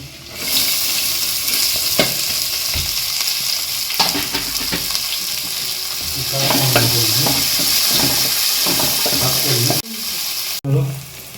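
Onion added to a hot pan for palak paneer, a steady close sizzle of frying with stirring scrapes and occasional clatter, continuous throughout with no speech.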